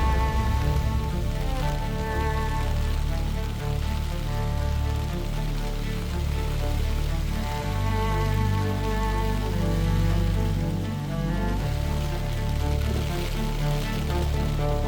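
Steady rain falling outdoors at an Allegany summer campsite, a dense, continuous patter on surfaces all around with no voices.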